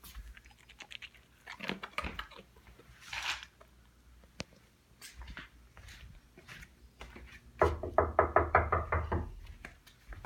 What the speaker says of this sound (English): All he's probably ever known, yes, is that knocking happens and then somebody comes in the door